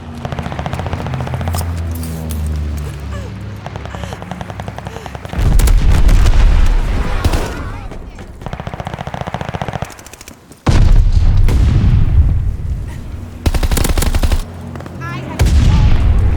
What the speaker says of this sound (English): Teammate called a bombing run.